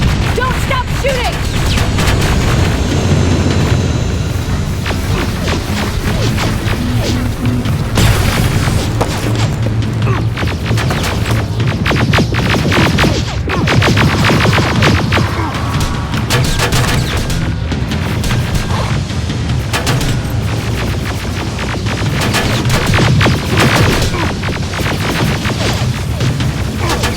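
Gunfire and explosions from the video game Terminator Resistance make a dense, loud barrage of rapid shots and booming blasts that run without pause, while voices shout over the combat.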